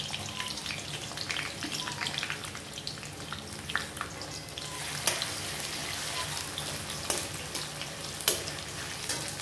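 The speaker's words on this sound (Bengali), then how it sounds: "পেঁয়াজ কুচিটা দিয়ে দিচ্ছি।" Chopped onion dropped into oil in a heavy kadai sizzles steadily close by, a dense hiss with a few sharp clicks of stirring against the metal.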